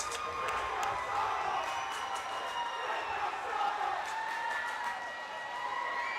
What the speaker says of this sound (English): This Perry County crowd has absolutely come alive right here